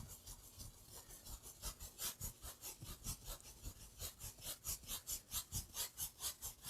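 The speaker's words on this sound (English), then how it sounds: "Just scrubbing in some of the yellow ochre there" A paintbrush scrubs yellow ochre oil paint onto canvas in quick back-and-forth strokes, a dry rhythmic rasping that grows louder and steadier as it goes, close up with no voices.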